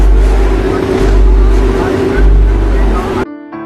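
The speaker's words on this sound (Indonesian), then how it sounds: "deru mesin mobil Formula One mulai dinyalakan." Formula One race car engines from 1976 roaring on a wet circuit before the start, a loud close rumbling drone that swells and pulses, then cuts off abruptly near the end.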